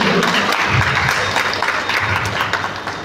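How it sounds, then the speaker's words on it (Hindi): A crowd at a Jaiswal women's organisation event gives sustained, fairly loud applause for students honoured for their 10th-grade results. The clapping is dense and steady, with a faint voice underneath. "इनके लिए जोरदार तालियां होनी चाहिए"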